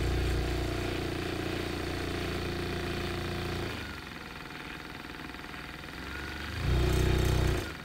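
A Vortex paint mixer spins at high speed with a steady loud motor whine, dipping in level midway then surging louder near the end before cutting off.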